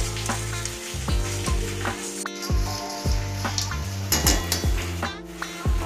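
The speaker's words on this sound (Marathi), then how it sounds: "पाक तयार करण्यासाठी मी इथे कढईमध्ये गूळ टाकून घेतलेला आहे" Jaggery melting without water in a kadhai for syrup, with a steady loud sizzle and repeated metal spoon scrapes and clinks as it is stirred.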